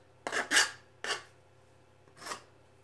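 Shaving wood off an angled wedge piece for a shop vac cyclone inlet, four short rasping strokes at close range in a quiet room.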